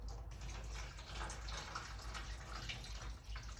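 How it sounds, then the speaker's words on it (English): Water being drained off freshly grated potatoes, a steady close pouring and trickling splash that runs continuously for several seconds at moderate level, with no talking. "Now it's important that you drain off the water."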